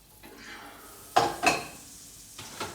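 Beef mince fries in a pan for chilli, a soft sizzle beneath a few sharp clatters and scrapes as it is stirred, with two close knocks in the middle and a lighter one near the end.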